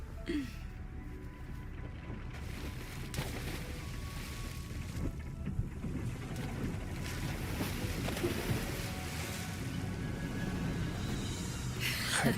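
A ship glides across the water in the Genshin Impact video game, a steady, close wash of waves and wind-like rush that runs unbroken for the whole stretch without any voices.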